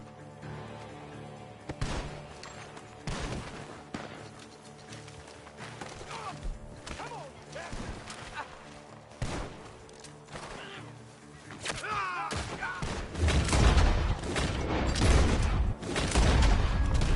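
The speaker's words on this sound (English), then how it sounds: "The gunshots are coming from that barn" Gunfire rings out from a barn during a Red Dead Redemption 2 shootout, a steady run of loud, sharp shots that grows denser and heavier toward the end, with in-game music and effects underneath.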